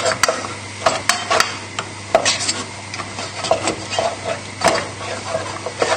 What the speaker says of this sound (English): now we're going to stir in the butter